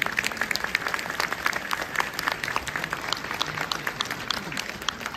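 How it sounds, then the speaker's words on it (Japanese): Spectators at the Setsubun festival at Yasaka Shrine in Kyoto applaud after a Miyagawa-cho geiko dance offering, a broad crowd of clapping hands heard steadily and evenly, with no speech over it. "今一度盛大な拍手をお願いします"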